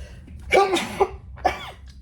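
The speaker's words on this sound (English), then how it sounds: "Oh, I gotta sneeze, guys." A single sharp sneeze burst, followed by a couple of shorter breathy exhalations, close to the microphone.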